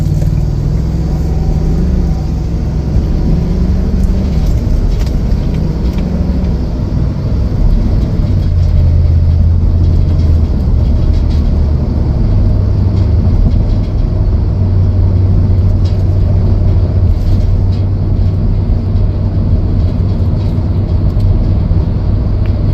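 A 2024 Ford Super Duty F-350 dual-rear-wheel XL 2WD truck drives on a test drive, a loud steady engine and road rumble from inside the cab with slight shifts in pitch as speed changes.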